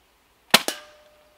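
A BB pistol fired from the hip in an airgun trick-shot session gives two quick, sharp cracks in close succession, each with a short ringing tail, against otherwise quiet surroundings.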